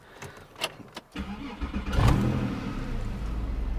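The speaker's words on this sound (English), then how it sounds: "Starting the engine, it's definitely throaty, the exhaust, I like it." A Porsche 911 Carrera S with Tiptronic gearbox and 87,000 miles cranks with a few clicks, then fires up into a throaty exhaust roar that settles into a steady, rumbling idle, close and loud.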